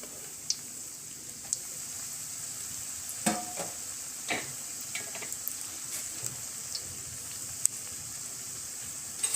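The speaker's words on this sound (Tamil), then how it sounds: "இது சூடானோன்னு நம்ம இந்த ப்ரெட்டெல்லாம் இதில் போட்டு பொரித்து எடுத்துருவோம்." Bread pieces frying in hot ghee in a pan for bread brinji rice, a soft continuous sizzle with occasional light pops and stirring clinks, close and steady, with no talking.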